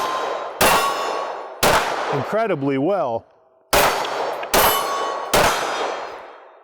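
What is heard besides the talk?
gunshots hitting steel targets at the range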